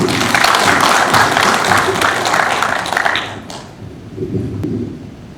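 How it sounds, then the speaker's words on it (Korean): Applause fills a hall at a Korean cable car promotion committee reorganization rally, a dense loud wash of clapping that fades after about three seconds into quieter room noise with a voice. "다시 한번 추진위원회 김영희 위원장께 큰 박수 한번 부탁드리겠습니다"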